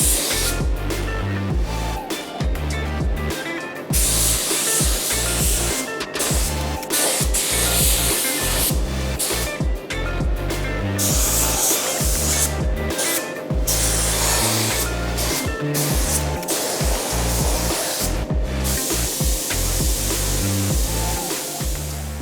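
Bursts of spray gun hiss lay epoxy primer onto bare-metal XC Falcon panel van body panels: loud, close, rapid on-off passes repeated in a near-continuous rhythm for about twenty seconds, with no voices.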